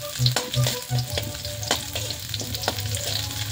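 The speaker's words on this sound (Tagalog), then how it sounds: "igisa na natin ang bawang" Garlic sautés in a hot pan for a Filipino ginataang sigarilyas dish, a loud close sizzle with bright spattering, scraping stirs and clanks from a utensil, and no talking.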